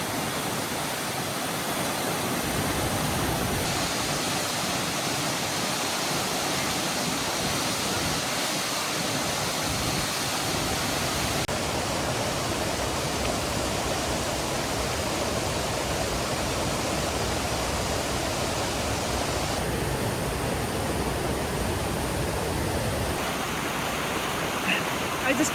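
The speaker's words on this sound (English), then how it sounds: "This is Bering Falls." Bering Falls, a waterfall in Glacier National Park, pours with a constant broadband rush that stays even and unbroken from start to finish.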